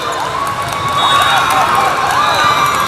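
Parents clap and cheer in a gym as girls' 17s club volleyball players run onto the court before a match, a steady, fairly loud crowd wash with scattered voices and no clear individual claps.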